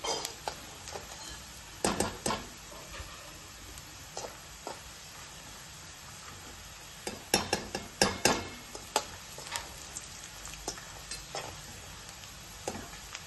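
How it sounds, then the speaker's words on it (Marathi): Peanuts frying in a pan for kanda pohe: a faint background sizzle broken by sharp clusters of spoon clinks and scrapes against the pan, grouped around the start and middle, no speech. "मस्तपैकी तळला गेलाय शेंगदाणा"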